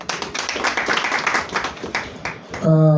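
An awards event audience in Kenya claps for a sponsor, dense close applause lasting a few seconds, ending with a sustained tone as the clapping fades.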